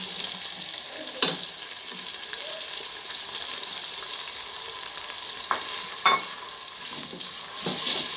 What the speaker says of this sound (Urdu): پیاز کو آپ اچھی طرح سے بھون لیں جب تک کہ یہ براؤن نہ ہو جائے۔